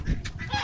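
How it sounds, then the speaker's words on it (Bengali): Chickens settled on a small farm give a brief burst of soft clucking, close and moderately loud. "এখানে কিছু মুরগি ঢুকে বসে আছে, কি সুন্দর জায়গা।"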